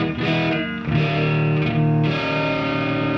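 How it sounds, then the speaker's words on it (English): Electric guitar runs through a NUX Verb Core Deluxe room reverb with the decay set minimal, playing a few sustained, slightly overdriven chords that stop short with almost no tail. "those are the kinds of tweaks that you can get with the room reverb"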